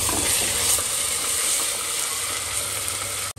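Ginger garlic paste fries with golden brown onions in a continuous loud, close hiss and crackle, broken by a sharp knock right at the end, with no talking.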